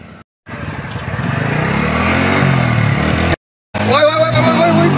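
A motorcycle carrying two riders runs steadily with a loud, continuous engine drone, broken by two short gaps, and the engine note rises near the end.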